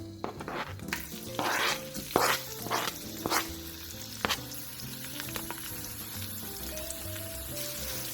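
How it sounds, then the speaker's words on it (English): Finely chopped onion hitting a pan of cloves and green cardamom, with loud sizzling and several sharp clattering stirs early on that settle into a steady, softer fry over low to medium heat. No one speaks. "I'm also going to throw in 1 finely chopped onion"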